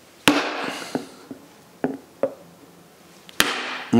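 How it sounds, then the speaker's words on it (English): Sharp metallic hammer strikes ring out at irregular intervals as a front wheel bearing is driven into a Classic Mini, a few loud blows mixed with lighter taps, close by with brief ringing after each hit. "that might take a little bit of hammering"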